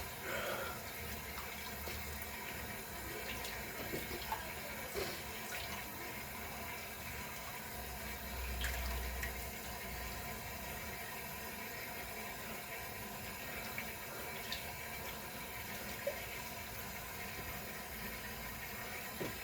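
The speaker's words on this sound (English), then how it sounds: "now I'm going to do a rinse off and see what I got left" A tap runs steadily in a sink while someone rinses off after shaving a beard and mustache, a continuous close splash and hiss lasting throughout, with no speech.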